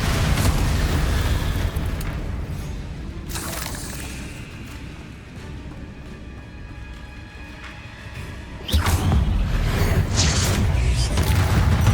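An Incendio fire spell bursts in Hogwarts Legacy with loud rumbling blasts, one at the start, a roaring surge near three seconds and another heavy eruption that keeps going to the end, over a low fiery rumble between them.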